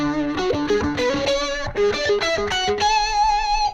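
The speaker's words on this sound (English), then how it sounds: "It has some pedal tone licks in it." Distorted electric guitar ripping through a fast lick that keeps returning to a low D pedal tone, loud and close with no talking, bright sustained notes alternating in a steady busy rhythm.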